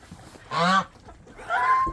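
Two loud honks from a goose nearby on a farm, one short call followed by a second longer one after a pause, over quiet outdoor background.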